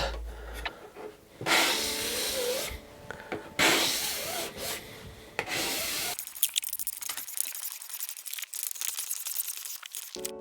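A hand scraper shaves hard maple in several loud rasping strokes, each a sustained scrape, followed by quieter scattered scratching and ticks near the end.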